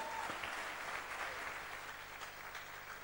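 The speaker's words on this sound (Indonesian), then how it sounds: "Sekali lagi kita beri tepuk tangan saudara" Church congregation applause during a sermon, a soft, even rush of many hands clapping, steady and fairly distant, with a low hum running beneath.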